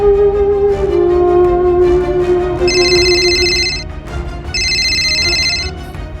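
Phone ringtone sounding as the boss calls, a repeating electronic melody in two bursts over a low hum, fairly loud and close.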